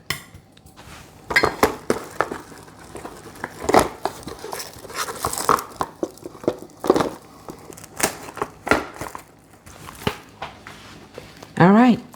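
A steak covered in plastic wrap is pounded flat on a board for a chimichurri steak salad, giving a run of irregular, fairly close thuds and knocks with brief gaps, a voice heard faintly at times.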